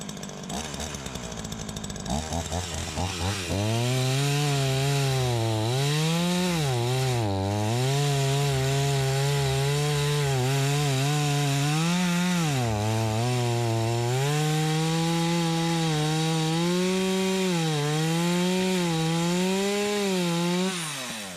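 A chainsaw drones loudly and continuously, its engine pitch rising and dipping as it bites into wood, with no talking.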